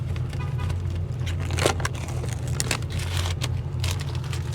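A 1968 Chevy with a swapped-in LS V8 idles with a steady, low, throbbing rumble close by, joined by a few faint crackles and rattles but no speech.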